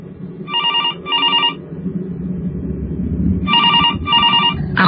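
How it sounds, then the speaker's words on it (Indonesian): A telephone rings with an incoming call in two pairs of rapid trilling bursts, loud and clear over a low background rumble. "Lalu kali ini kembali ada telepon yang masuk."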